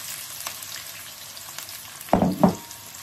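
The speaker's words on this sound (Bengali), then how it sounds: "আমার তেলটা গরম হয়ে গেছে, পেঁয়াজটা দিয়ে দিই" Chopped onions drop into hot oil in a pan for a home-cooked chicken curry, giving two sharp, close bursts of sizzling over a faint background hiss.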